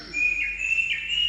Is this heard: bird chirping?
yes